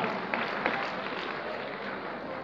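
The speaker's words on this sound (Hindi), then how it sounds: "भरपूर तालियां जी अरशद बादी के लिए," Applause for a comedian after a one-man show, a steady wash of crowd clapping heard from a distance, fairly even throughout with a couple of sharper claps near the start.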